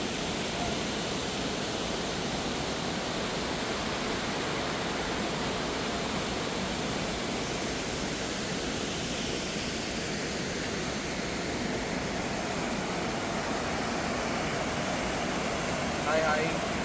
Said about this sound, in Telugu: ఇట్లాంటి వాటర్ ఫాల్స్ తుంగన నుంచి సోన్ప్రయాగ్ వెళ్ళే రూట్లో ప్రతి ఒక్క 2 కిలోమీటర్స్లో ఇట్లాంటి ఒక వాటర్ ఫాల్ కనిపిస్తుంది